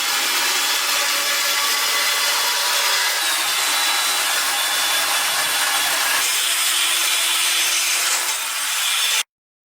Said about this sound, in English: I'm calling the rust removal on the driver's side done